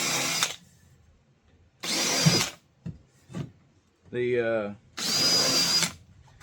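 A power drill with a combined countersink bit bores holes in wood for a hat rack, three loud bursts of whining motor and cutting noise separated by pauses, with a brief spoken word between them.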